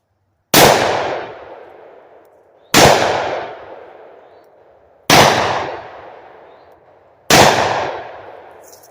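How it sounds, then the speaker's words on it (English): Four loud, evenly spaced Combat Magnum revolver shots fired double action at 20 yards, each a sharp close crack with a decaying echo and about two seconds of silence between. "Let's take it back to 20 yards for some aimed fire."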